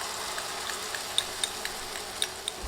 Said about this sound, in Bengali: নেড়ে কয়েক সেকেন্ড মশলা ভেজে নিব